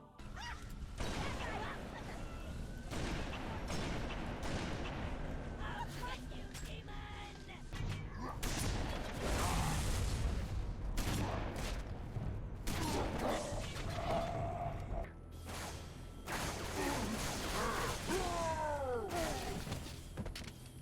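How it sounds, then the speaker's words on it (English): Gunfire in the video game Halo 3 fills a loud, dense battle mix of rapid shots, heavy booms and impacts, continuous and close with little pause, and game voices occasionally cut through. "Shooting the guns feels good, and the sound design really packs a punch, and almost every gun is satisfying to shoot."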